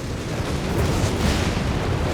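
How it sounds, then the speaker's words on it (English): Artillery barrage explosions in the Company of Heroes 3 strategy game form a dense, continuous rumble of booms, steady and loud throughout with no talk. "Another whiz-bang barrage."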